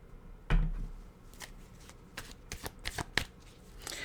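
A deck of cards shuffled for a reading, heard up close as a sharp riffle followed by a run of quick flicks and soft taps, with no voices.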